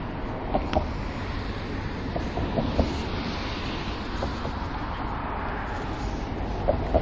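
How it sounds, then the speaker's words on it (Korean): A blue train passing near Stockholm Central Station in Gamla Stan, a steady low rumble of rail traffic mixed with wind and city noise, faint and continuous with a few small clicks and no talk. "파란색 기차가 가고 있는데, 바로 왼쪽이 중앙역으로 되어져 있습니다"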